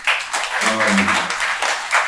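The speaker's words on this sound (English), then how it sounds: "So round of applause for them too." Audience applause at a funding-narrative event, a dense steady patter of many hands sustained for about two seconds, with a voice-like tone briefly audible in the middle.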